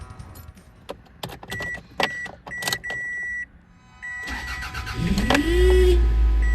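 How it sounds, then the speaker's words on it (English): Keys jangle and clicks sound nearby, a chime beeps, then a 2003 Toyota RAV4 engine cranks and catches after a rear main seal replacement, settling into a loud, steady idle. "let's turn on the motor."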